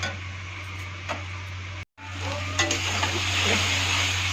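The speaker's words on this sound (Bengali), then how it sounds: "মশলাটা ভাজা ভাজা হয়ে যাচ্ছে, অল্প অল্প তেল ছাড়ছে" Spice paste for egg curry fries in oil in a pan with a continuous close sizzle, small ticks and stirring scrapes. The sound cuts out briefly partway through.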